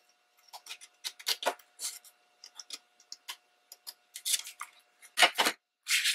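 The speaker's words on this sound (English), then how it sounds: "I'm going to take my scissors and cut down about halfway." Scissors snip through paper in a quick run of crisp, close cuts, with short pauses between bursts of snipping.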